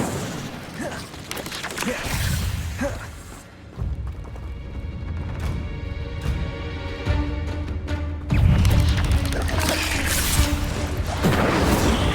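Fire spell cast in the Hogwarts Legacy video game: loud rumbling, crackling bursts with booming impacts and a sustained fiery roar, swelling again after a brief quieter stretch of ringing game sound.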